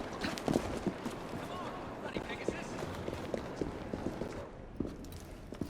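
Horse hooves clip-clop at a trot in the Victorian London game Assassin's Creed Syndicate, a steady run of moderate hoof beats with speech and ambient game sound over them.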